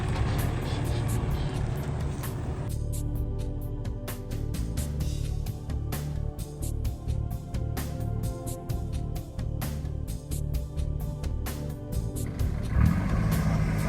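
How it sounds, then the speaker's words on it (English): A Nissan Patrol turbo diesel 4WD with a front locker pushes through a swamp track: a loud, constant engine drone overlaid with frequent clattering knocks and rattles, building toward the end. "here comes the noisy TD, cruising on through"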